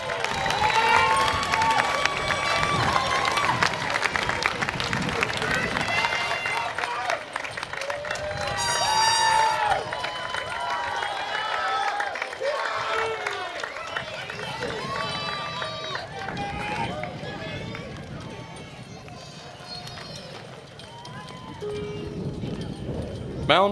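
Graduates at a college commencement ceremony in a stadium applaud their families with a long, dense burst of clapping and cheering, while whoops and crowd noise swell and continue throughout.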